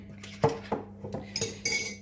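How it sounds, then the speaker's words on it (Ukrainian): Favourite cups clink together as tea is made after the kettle boils, with several light ceramic knocks and clatters in quick succession, close by and with no speech. "Беру свої улюблені чашки."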